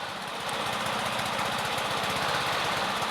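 Honda Harmony II HRT216 push lawn mower engine idling at its lowest setting, a close, steady, rapid chugging rumble with slight unevenness, running alone with no talk.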